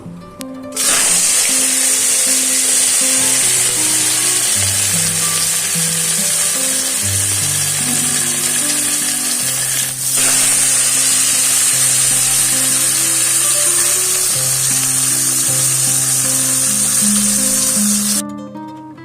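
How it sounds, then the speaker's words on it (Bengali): Loud, continuous sizzling of fish frying in a little hot oil in a wok, steady for the whole stretch, with a melodic music track playing underneath. "কড়ায় তেল দিয়ে দিলাম এখন শুধু মাছ ভাজবো"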